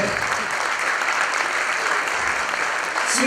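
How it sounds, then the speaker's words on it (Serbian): An audience at a municipal sports awards ceremony gives sustained, dense applause, loud and steady from start to finish in a large hall. "ja bih vas molio za još jedan aplauz"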